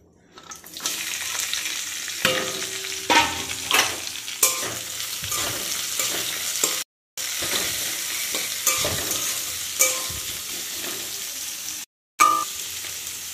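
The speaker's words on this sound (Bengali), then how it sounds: "তো 5 ফোড়ন আর শুকনো লঙ্কা দিয়েছি, আর এই যে পেঁয়াজ তো ভাজা হোক ওটা একটু।" Onion frying in oil with panch phoron and dried chilli sizzles loudly and continuously close by, with repeated scraping stirs and two brief cuts to silence.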